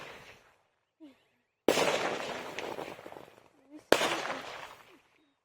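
Two firecracker bombs burst inside a well, each a sudden loud bang followed by a long, echoing boom that fades away, with brief voices in the pauses between them.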